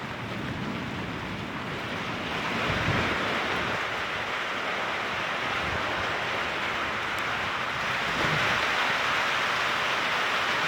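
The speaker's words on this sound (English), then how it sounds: "It's still raining decently though." Rain falling during a severe thunderstorm with damaging winds, a steady broad hiss mixed with gusty wind rumble, continuous and fairly loud throughout with no talking.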